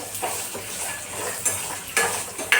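Peanuts roast and crackle in a pan with golden-fried garlic while a utensil stirs them, producing steady close sizzling punctuated by sharp scraping clinks against the pan.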